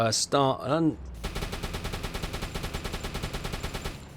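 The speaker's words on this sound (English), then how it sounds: "Oh, we're just leaving port on a new mission, and there's an air raid just as we're setting off." Air raid in the submarine game Uboat as a U-boat leaves port: after a brief burst of vocal or tonal sound, rapid repeated gunfire and explosions roll on steadily and loudly for about three seconds.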